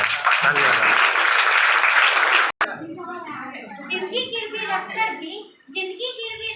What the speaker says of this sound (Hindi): हो गया, ताली बजाइए।